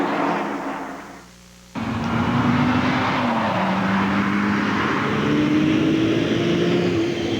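Stock cars racing in the 1988 Daytona 500 roar loudly and continuously, engine pitch rising and shifting as the pack runs toward the back straightaway, after a brief dip in volume.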